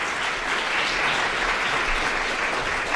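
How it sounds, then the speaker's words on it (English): Steady, dense applause from a public lecture audience welcoming a speaker at a nursing and midwifery school event, even in loudness throughout with no talking over it. "give a warm round of applause to welcome Mike Watts"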